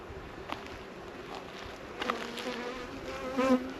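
Bees hum in a low, constant drone close by, with a few louder buzzing passes rising over the background.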